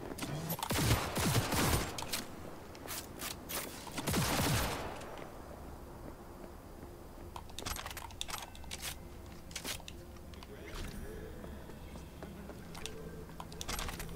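Pistol gunfire in Cyberpunk 2077 crackles in a dense burst of sharp shots over the first five seconds, followed by scattered fainter shots and clicks against a low background rumble.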